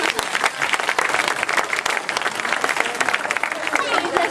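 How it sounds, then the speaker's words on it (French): A children's audience applauds loudly for visiting fathers at a holiday village show, a dense, steady wash of clapping filling the whole stretch with voices mixed in. "On les applaudit très fort."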